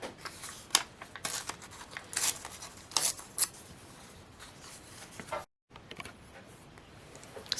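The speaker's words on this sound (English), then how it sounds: "say I just want to rip this out" Stitching is torn out of a paper collage in a series of close, sharp ripping and snipping bursts, spaced irregularly with brief pauses and a short silent gap.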